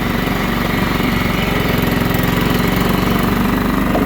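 A John Deere STX38 riding lawnmower runs in fourth gear at top speed, its engine a loud, steady, close drone with an even pulsing vibration throughout.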